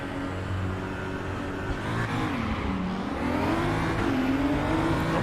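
Race car engine in the sim racing game RaceRoom, revving hard as it launches from a standing start in an online multiplayer race, a loud continuous drone climbing steadily in pitch under the roar of other cars.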